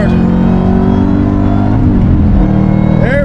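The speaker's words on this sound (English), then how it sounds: "Hear that supercharger." A supercharged V8 in a 2008 Shelby GT500 KR accelerates hard, a loud steady engine roar with supercharger whine rising in pitch, then dropping as the gear changes, heard from inside the car.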